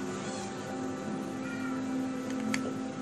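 A cat in the Minecraft video game meows a couple of times, moderately loud and close, over a steady game background hum with no talking.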